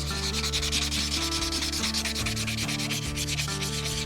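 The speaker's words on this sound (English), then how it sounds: "So this is emery cloth that I was using for polishing the crank." Emery cloth rubbed against a DT-466E diesel engine crankshaft to polish it, giving a loud, continuous abrasive rasp in quick back-and-forth strokes, heard over a steady background hum with no talking.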